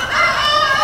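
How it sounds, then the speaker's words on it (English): A loud, close chicken alarm call, a short strained squawk sounding briefly with no other sounds around it. "The flock of chickens saw the baby goats for the first time and they were sounding the alarm"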